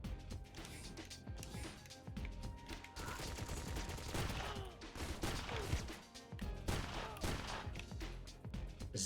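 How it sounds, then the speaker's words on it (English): Heavy gunfire in the N64-style shooter Agent 64, a big gun firing in dense, continuous bursts with crashes and impacts throughout a busy game soundscape, loud and close. "This is a big gun."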